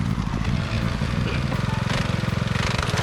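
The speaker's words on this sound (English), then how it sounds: "This machine is called a binder, and it cuts the rice plant and ties a thin rope around it." A rice binder engine chugs loudly and close while the machine cuts and ties rice plants in a rural Japanese field, with a steady rapid mechanical pulsing that grows more regular toward the end.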